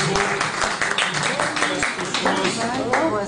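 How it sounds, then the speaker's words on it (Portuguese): Audience applause at a cultural academy gathering in Bahia, a steady dense patter of many hands clapping for several seconds, mixed with voices and crowd murmur throughout. "uma salva de palmas, por favor"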